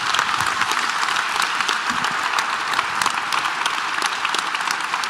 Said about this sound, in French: Peut-être des applaudissements pour le Premier ministre.